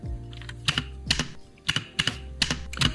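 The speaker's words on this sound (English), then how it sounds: "it is actually the enter key from the keyboard I'm using recorded on the mic" The enter key of a computer keyboard is pressed in a quick irregular series of crisp clicks, recorded close on a microphone and clear with no talking.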